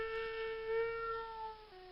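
A single drawn-out cat meow, clear and close, holding a steady tone before trailing off at the end.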